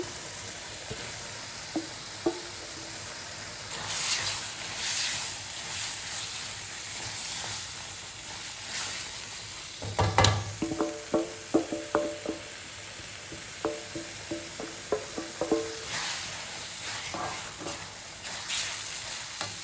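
Paneer bhurji sizzles and fries in a pan while being stirred, a steady crackling hiss broken by clusters of sharp spoon-on-pan scrapes and taps, close and alone without any talking.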